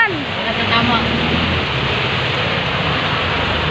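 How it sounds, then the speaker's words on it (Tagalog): Heavy rain falls hard and steadily around a driver on the road, a loud, dense, even hiss that fills the whole moment with no break. "Ayan, lakas-lakas ng ulan."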